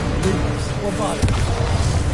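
Bombarda explosion spell in Hogwarts Legacy going off with a sudden booming burst about a second in, set against a dense bed of ongoing game noise.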